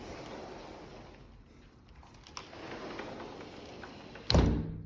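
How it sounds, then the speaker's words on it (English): Door fitted with an alarm bypass at a holiday rental, heard opening quietly over a faint room hiss, then shutting with a sharp, close thud near the end. "open the door,"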